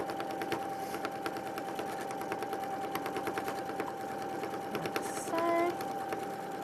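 A sewing machine runs continuously, stitching a seam straight through the middle of a garment, its rapid regular needle ticks steady and close throughout, with a brief squeak near the end.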